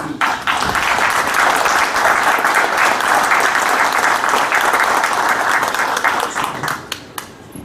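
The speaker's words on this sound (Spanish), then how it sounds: "Aplausos" An audience at a national notaries' congress in Huaraz breaks into sustained applause, loud and dense for several seconds before tapering off into scattered claps.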